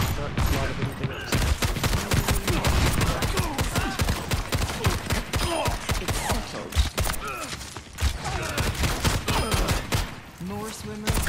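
Gunfire in the team shooter video game Overwatch 2, a loud nonstop barrage of rapid shots and hit effects layered over busy game sounds, with some talking underneath.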